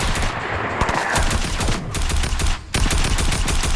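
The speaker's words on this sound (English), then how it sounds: "He starts shooting at me." Rapid Fortnite gunfire crackles loud and dense for several seconds, bursts layered over one another with a brief dip near the end before firing resumes.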